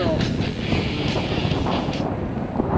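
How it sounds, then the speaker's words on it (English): Gusty wind buffets the microphone outdoors during an electric unicycle group ride. Steady, loud low rumble runs the whole time with no clear talk over it. "Windy out here, guys."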